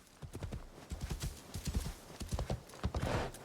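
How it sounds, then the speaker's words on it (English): A horse's hooves clip-clop in an irregular, close series of thuds in the game Assassin's Creed Shadows, with a whinny rising near the end over faint background ambience. "So my horse just chilling here for me."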